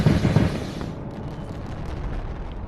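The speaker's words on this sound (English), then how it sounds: "Now watch me nuke that." Video game nuke explosion in Animal Company, a loud deep boom bursting at the start and then fading into a long rumbling, crackling roar that lingers.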